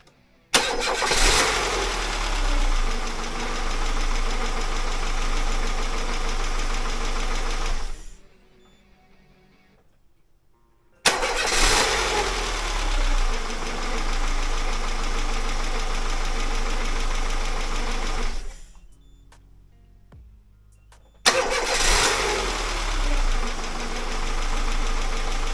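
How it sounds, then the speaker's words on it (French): A warmed-up car engine restarts twice after short pauses. Each time the starter cranks, the engine catches on the first try and settles into a loud, steady running drone, with quiet gaps in between. "Là, je vais redémarrer pour voir si elle démarre du premier coup."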